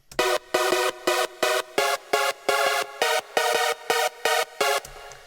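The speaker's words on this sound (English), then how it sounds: "a Supersaw type sound, which is probably one of the most commonly used lead sounds in hard dance music" A bright, buzzy supersaw synth lead, made in Sylenth, plays a choppy rhythmic pattern of short staccato chords in hard dance style, loud and up front.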